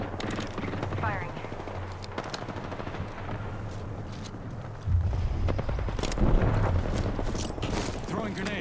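Automatic weapon fire in Apex Legends during a sliding firefight, rapid bursts of shots growing louder and denser midway, with a player's voice talking over the action.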